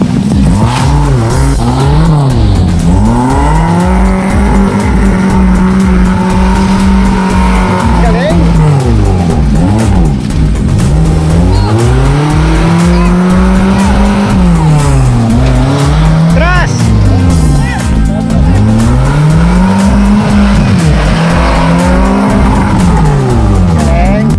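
A Suzuki Samurai 4x4 racing on an off-road track at a 4x4 challenge event, its engine loudly revving up and down in repeated surges with tire noise, heard close and continuous under a commentator's talk.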